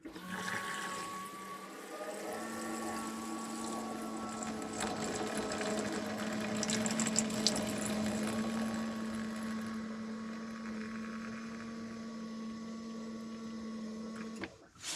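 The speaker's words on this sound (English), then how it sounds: "Now I know I said don't run the pump dry, but just until the water stops coming out of the system." Motorhome water pump running while the taps drain the system during winter preparation: a steady electric whine and buzz with gurgling, spluttering water, starting about two seconds in and running continuously, close and fairly loud, then cutting off right at the end.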